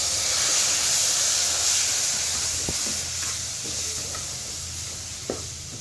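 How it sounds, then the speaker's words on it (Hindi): Milk poured into roasted semolina and sugar in a hot pan, giving a steady loud hiss and sizzle that slowly fades, with a few soft stirring clicks. "अब हम इसके अंदर दूध ऐड कर देंगे।"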